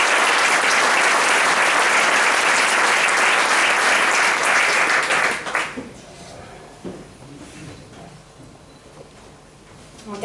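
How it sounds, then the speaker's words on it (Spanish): Loud, dense applause fills a hall at an industrial engineering awards gala for about five seconds, then cuts off abruptly, leaving faint room noise and quiet stirring. "Pido un fuerte aplauso"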